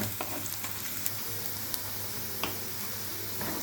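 Onions sizzle and fry in a pan for potato biryani, a steady broadband crackle with a few sharp scraping stirs of a spoon, close and fairly loud, no talking.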